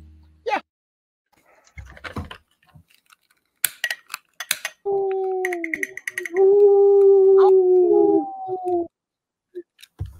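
A person's voice imitates a wolf, giving two long, wavering howls after a few scattered clicks and taps. The howls are loud and near.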